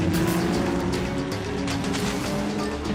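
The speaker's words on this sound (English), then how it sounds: "The race car clips Ospina on the right leg" A race car roars loudly through a pit lane at close range, a dense, sustained engine and tyre rush filling the whole clip with no break.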